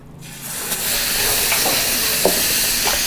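Seasoned beef and shiitake mushrooms stir-fry in a wide pan with a steady, loud hissing sizzle that swells in and holds throughout, broken by a few light scrapes of stirring.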